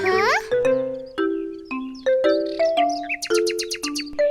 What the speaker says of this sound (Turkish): İşte küçük bir kuş ağacımıza kondu bile.